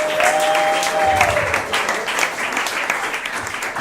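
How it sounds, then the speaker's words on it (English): Audience applause at a comedy show for comedian Brian Babylon, dense sustained clapping from a crowd with a brief whistle and some cheering voices mixed in. "One more round of applause,"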